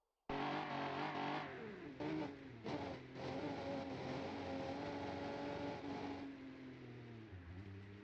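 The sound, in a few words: racing car engine accelerating down the straight, BeamNG.drive video game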